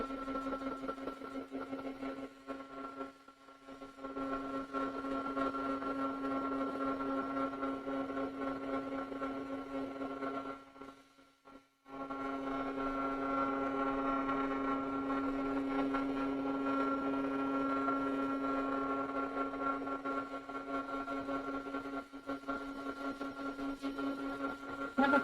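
A dryer blowing steadily over a freshly painted background, a continuous droning hum with two brief pauses where it cuts out before resuming.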